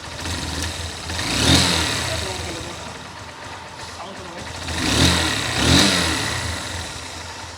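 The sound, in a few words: repaired motorcycle engine running and revving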